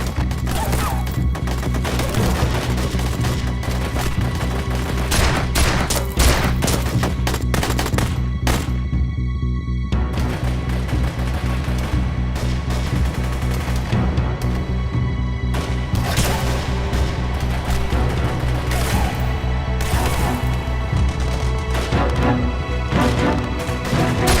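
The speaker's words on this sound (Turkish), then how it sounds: "Dikkat edin. Keskin nişancı var. Kafayı çıkarmayın." Gunfire in a TV drama battle scene with a sniper, dense bursts of shots and rattling automatic fire with crashing, splintering impacts, loud and continuous throughout with no talking.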